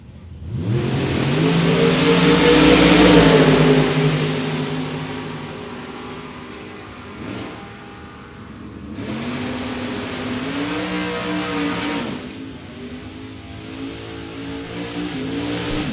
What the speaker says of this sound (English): Butch Steffens out of Washington, Missouri with the 41 Willys, and Gary Hensley with the Chevy Chevette.